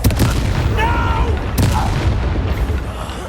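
Confringo blasting spell explosions from the Hogwarts Legacy video game on PS5: loud booming blasts at the start and again near the midpoint, layered over dense in-game combat noise and spell effects, with voiced spell incantations mixed in.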